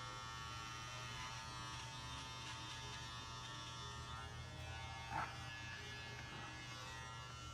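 Electric hair clippers buzzing steadily while cutting a men's modern mullet haircut, a close, continuous hum with a brief louder bump partway through.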